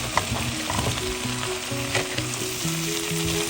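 Mushrooms and onion sautéing in a pan over a high flame give a steady close sizzle, with faint scrapes of stirring and a steady hum beneath.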